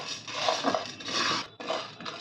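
Large sago pearls being dry roasted in a hot wok, bursts of dry rattling and scraping as the pearls are stirred, in three close bursts separated by brief gaps.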